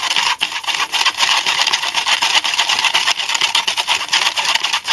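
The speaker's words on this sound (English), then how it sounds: "You can hear that grit in there" Gritty homemade glimmer mist mixture stirred in a small container, a steady close scraping and rubbing texture that runs unbroken for the whole stretch with no talking.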